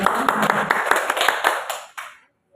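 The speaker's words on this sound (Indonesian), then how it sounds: "beri tepuk tangan buat Pak Wiyoso" Audience at a government institution seminar clapping in a brief burst of sharp, distinct claps that thin out and stop after about two seconds, followed by near silence.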